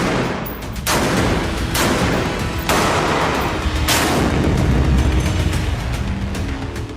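Artillery bombardment in northern Israel rumbles on as a loud, continuous roar, with several heavy booming surges breaking through the dense noise and no voices.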